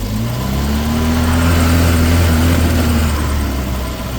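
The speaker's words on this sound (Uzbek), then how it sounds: "Sekin gaz bosamiz." A Chevrolet Nexia's engine revs steadily under throttle from inside the car, a loud, continuous drone whose pitch rises gradually and then eases off, with no talk over it.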